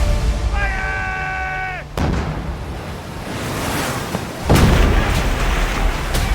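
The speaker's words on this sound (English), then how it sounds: "cannons and muskets being fired at close range" Cannon and musket fire in a close-range naval battle of Lord Nelson's era: heavy booming blasts and crackling shots over a dense roar, with a brief tonal swell early and a sharp loud burst later.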